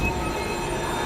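A train pulls into Wong Chuk Hang MTR station on the South Island line, with loud, steady rail rumble and a high squeal of wheels on the track running throughout, no talking.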